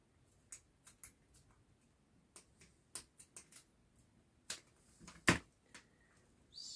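Scissors snip through a final piece of material, a string of sharp, close cutting clicks at irregular intervals, including one louder snap, with quiet pauses in between.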